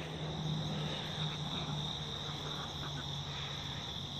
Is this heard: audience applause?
no